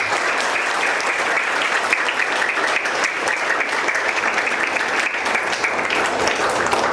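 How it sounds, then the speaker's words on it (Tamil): Steady, loud applause from a large congregation fills the whole stretch without letup, welcoming 176 students at a confirmation ceremony in St. Joseph's church, Kulathurampadu; no voices rise above the clapping. "கரகோஷம் எழுப்பி அவர்களை வரவேற்கிறோம்."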